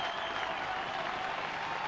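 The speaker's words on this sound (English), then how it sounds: "And they know what they're clapping for" Crowd applause fills an ice hockey arena at a 1986 Scottish Cup match between the Rockets and the Flyers, a steady, dense clapping wash that sounds broad and continuous throughout.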